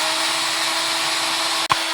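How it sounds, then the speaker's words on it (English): A small power drill whirs steadily and close while boring a hole into the tough tail of a homemade firecracker, cutting off abruptly near the end with a brief click. "This tail is a little bit tough, so I'm going to drill a hole into it."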